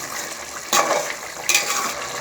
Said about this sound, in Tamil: இந்த கறியும் கிரேவியும் சேர்ந்து ஒரு 2 நிமிஷம் நல்லா கொதிக்கட்டும்